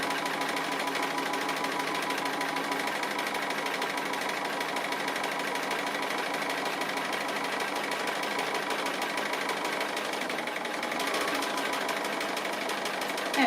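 A sewing machine stitches an appliqué tree trunk on a quilt block, running in one continuous steady mechanical whir with a fast even needle rhythm, loud and close, without pause.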